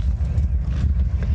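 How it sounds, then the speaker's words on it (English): Donkeys or mules walk at an outdoor adventure expo in Alberta, their hooves making a close, steady clip-clop over a low rumbling background. "there's like a donkey walking"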